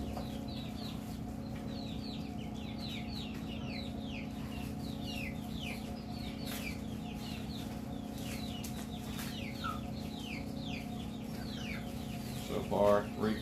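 A Serama mother hen clucks softly and repeatedly in a steady run of short calls over a constant low hum, with a brief louder burst near the end.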